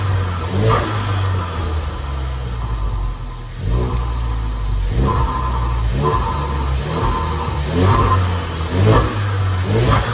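A Ford Focus RS engine revs in repeated blips, each throttle lift followed by a sharp chattering flutter from a GFB DV+ recirculation valve, loud and close with no talking.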